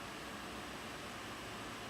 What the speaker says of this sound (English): I have the fan on for a little bit of white noise